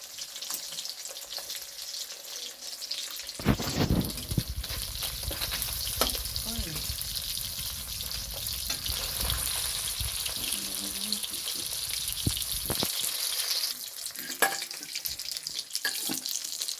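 Steady crackling sizzle of frying in hot oil runs throughout, with occasional clinks and a watery rush midway, fairly close and moderately loud.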